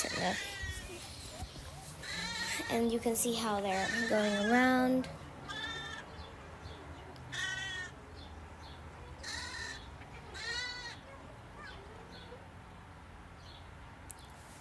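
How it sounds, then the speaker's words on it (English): High bleats from lambs ring out several times, some overlapping, with a person speaking briefly amid the calls in a quiet shed at Old Sturbridge Village. "we're going into the little shed with all the baby sheep"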